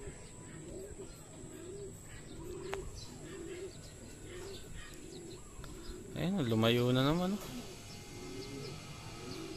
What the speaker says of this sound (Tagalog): Kaloko nung ibon na to